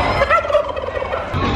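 A large fowl at a county fair gobbles loudly and close by, a burst of warbling calls followed by a quieter trailing gobble, with no talking.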